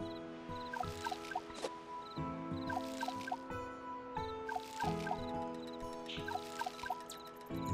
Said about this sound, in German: So, jetzt gießen wir hier erstmal alles.